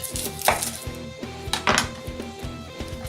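An onion is chopped with a knife on a board for egg fried rice: rapid, even, close thuds in a quick steady rhythm, with a couple of louder scraping strokes, and no one speaking.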